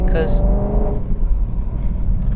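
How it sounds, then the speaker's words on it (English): BMW M3's naturally aspirated 4-liter V8 rumbling steadily while driving, a loud low engine note, with someone speaking briefly over it at the start. "This naturally aspirated 4-liter V8."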